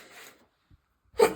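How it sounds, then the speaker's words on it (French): A single sharp sneeze bursts out near the end, close and fairly loud, after a soft breath and a moment of near silence. "je vais éternuer"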